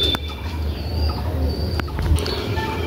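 Pigeons at a loft in Ranihati give low, soft cooing murmurs that run continuously under faint background noise, with a few light clicks.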